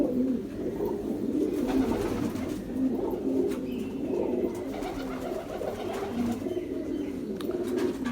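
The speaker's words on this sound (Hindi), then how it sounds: "बड़ा शानदार कबूतर है जी," Ferozpuri pigeons cooing in steady, repeated low rolling calls, close and fairly loud, with no talking over them.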